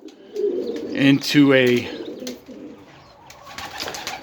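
Pigeons coo close by from nesting compartments made from repurposed Uniline lockers. A few low, warbling calls come under and between a man's speech.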